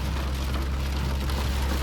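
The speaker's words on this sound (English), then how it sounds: "I hope my audio is clear in the mic because it's raining heavily." Steady heavy rain hisses close by, heard from inside a Mahindra Scorpio N, a continuous dense wash with a low rumble underneath, no talking.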